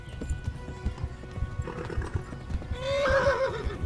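A horse in the medieval game Kingdom Come: Deliverance gives a rhythmic clip-clop of hooves, then a loud, clear neigh near the end, close by and with no voice over it.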